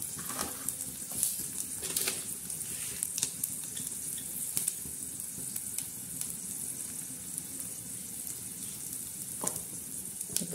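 Curry leaves sizzle in hot oil for a tempering, a soft steady hiss broken by scattered sharp crackles and pops, fairly quiet and with no voices.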